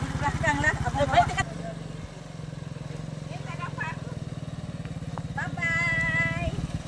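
A motorcycle engine idles and putters steadily throughout at close range, with a voice talking over it during the first moments.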